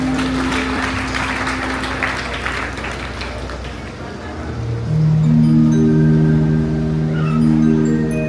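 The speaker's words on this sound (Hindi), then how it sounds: "जोरदार तालियां।" Loud audience applause at a spiritual and cultural gathering in Kotwa, Deoria, broad clapping filling the first half before fading under sustained tonal music or hum that grows louder toward the end.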